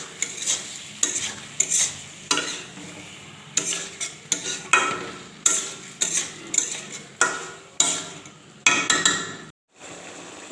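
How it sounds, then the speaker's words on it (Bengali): Chicken is stir-fried in a pan for a chicken potato curry, with rhythmic scraping stirs of a utensil against the pan and a soft sizzle, close and fairly loud, repeating about every half second. "এবার চিকেনটাকে ভালো করে কষিয়ে নিতে হবে।"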